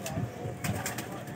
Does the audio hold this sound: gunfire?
no